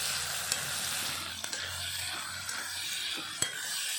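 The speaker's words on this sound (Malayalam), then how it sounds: "ഇനി തക്കാളിയൊക്കെ ഇട്ട് കൊടുക്കാം കേട്ടോ" Tomatoes hit hot oil in a pan and set off a steady, bright sizzle. Light clinks of a utensil against the pan come through now and then. No talking.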